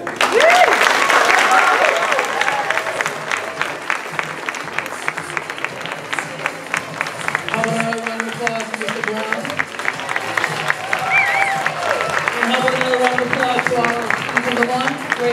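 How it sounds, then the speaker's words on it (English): Applause from a school audience at Carlton School fills the whole stretch, a dense steady clapping that stays loud throughout, with voices and a singing or cheering crowd rising over it in the second half. "Another round of applause to our number one, great job."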